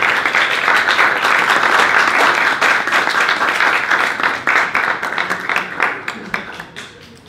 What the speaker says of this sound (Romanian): Să-l aplaudăm pe Liviu